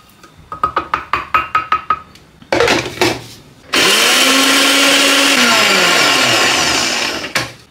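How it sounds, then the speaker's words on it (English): Dukkah spice and nut mixture ground in a kitchen blender: a series of short pulsed bursts, then a longer loud continuous whirring grind that gradually settles in pitch before stopping, close and alone. "So the next step is grinding our Dukkah and nut mixture."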